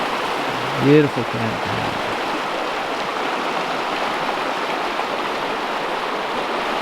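Steady rushing of a river running past a campground along US 93 in Idaho, a constant broadband wash that continues throughout, with a brief spoken remark near the start.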